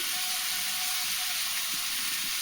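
Raw potatoes tossed into a hot pan while cooking Bengali-style pui saag with prawns give off a steady, even sizzle and hiss that holds through the whole moment without any voice.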